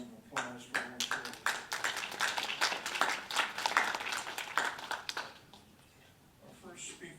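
A conference audience giving a round of applause for the event's main organizer at a roundtable, scattered then fuller clapping that fades out after about five seconds, with a voice faintly underneath.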